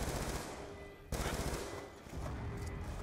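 Rapid automatic gunfire from a new gun in the Call of Duty: Black Ops 2 campaign plays as continuous dense bursts with a short break partway through, steady and loud within the mix.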